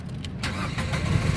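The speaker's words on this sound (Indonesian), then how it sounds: "Nah, berikutnya coba kita nyalakan mobil" Engine of a 2015 Datsun GO+ Panca 1.2 T Option manual starting up, a brief crank catching quickly into a steady, close idle with no talk over it.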